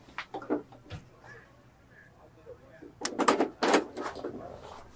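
A rare Corvair Ultravan's door being handled, giving a cluster of loud clunks and rattles partway through, preceded by a person talking nearby.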